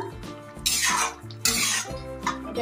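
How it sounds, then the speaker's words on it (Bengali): A spoon stirs poppy seed curry in a metal pot after the lid comes off, giving loud scraping and clinking strokes with bursts of bubbling sizzle, close and steady over a few seconds. "ঢাকনা খুলে দেখছি, ভালো করে নেড়ে দিচ্ছি"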